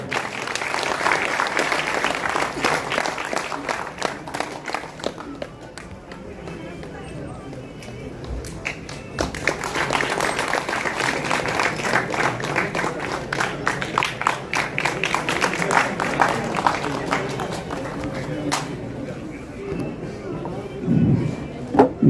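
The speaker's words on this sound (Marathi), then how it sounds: "टाळ्या वाजवा" Audience applause at a community award ceremony in Mumbai, sustained crowd clapping that dips briefly and then swells again, with a voice speaking over it near the start.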